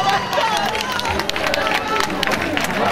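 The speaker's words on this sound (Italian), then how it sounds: "Vogliamo fare un applauso ad Antonio" An audience at a live music performance claps for the singer, a loud, continuous wash of applause mixed with crowd noise and chatter throughout the short stretch.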